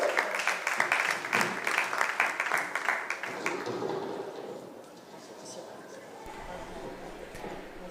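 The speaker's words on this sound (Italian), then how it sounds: "Molto bene, un applauso a Sergei Rostovsev" Applause rises from an audience at a six-day track cycling event, a dense crackle of clapping that fades partway through, leaving a quieter murmur of crowd noise.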